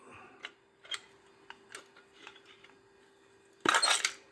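Metal snips cutting inside a microwave oven magnetron, near its copper coils: a few light, sparse metallic clicks and ticks, then a sharp, louder crunching snip near the end, close up with no talk.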